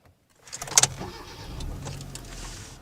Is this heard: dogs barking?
no